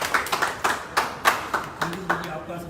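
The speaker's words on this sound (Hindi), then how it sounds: "एक जोरदार तालियां" Sparse clapping from a small audience: about a dozen separate hand claps in an uneven rhythm, close and moderately loud, with a faint voice entering near the end.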